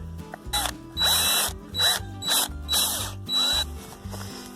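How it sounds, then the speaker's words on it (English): A power drill bores through the center of a plastic cap in about five short, whirring bursts with brief pauses between them, close by. "it'd be easier to get the center and drill it through there"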